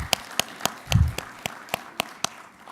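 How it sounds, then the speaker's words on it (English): At a public policy meeting, a small audience gives sponsors sparse applause, a handful of distinct, evenly spaced claps with a soft low thump near the middle. "Let's have a round of applause for our sponsors."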